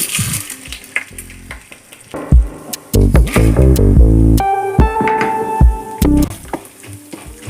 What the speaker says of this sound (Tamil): எண்ணெய் சூடானதும் கடலைப்பருப்பு, உளுத்தம் பருப்பு